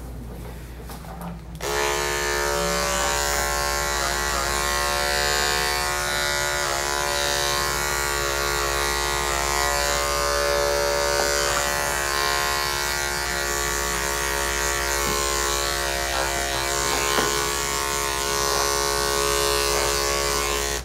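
Electric clippers shave a heavily matted dog at a grooming session, buzzing loud and close as a steady drone that starts after a brief quiet moment and runs on unbroken, with no talk over it.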